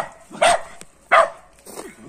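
Small-breed puppies barking indoors at a home, three short sharp yaps spaced roughly evenly apart, close and clear with quiet gaps between them.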